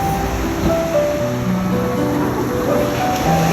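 Steady wash of sea waves at a beach in Bolinao, with the surf rolling continuously and loudly close by, a few faint voices mixed underneath.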